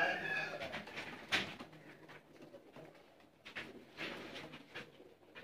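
Champion pigeons at a rooftop breeding setup coo in soft, repeated calls, with a few sharper bird calls, close to the microphone and steady across the stretch.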